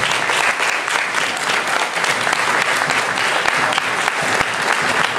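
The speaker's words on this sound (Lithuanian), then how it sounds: "Plojimas reiškia, džiugiasi, kad baigiamą, plojimas reiškia perspektyvos palaiminimą" An audience at a panel discussion on the European idea claps loudly and continuously, a dense, even burst of many hands held for several seconds without pause.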